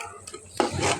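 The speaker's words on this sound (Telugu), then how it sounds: "ఇంకా కొంచెం సేపు ఇలా బ్రౌన్గా మనం ఫ్రై చేసుకోవాలి" Onions frying for bagara rice and dalcha, with a spoon scraping and stirring them in a pan: a brief clatter, then a soft sizzle close by, heard alone.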